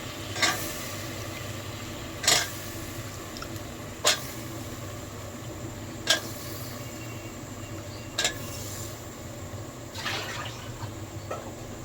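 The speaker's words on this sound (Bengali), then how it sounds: "মিষ্টি আলু দিয়ে ভালো করে কষিয়ে নিব" Rohu fish and sweet potato pieces sautéing in a pan, with a steady low sizzle and periodic sharp clicks of a spatula striking the pan roughly every two seconds, no talking.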